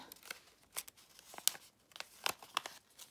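Origami paper being folded over for a dog model, with a series of short crisp crinkles and creases scattered across a few seconds, close and fairly quiet, no talking.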